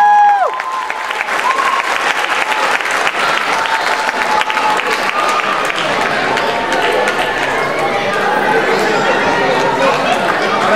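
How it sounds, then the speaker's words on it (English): Sustained applause from an audience at a thank-you event, loud and continuous throughout, with crowd chatter and a few voices underneath. "we have to give a big applause to Hari."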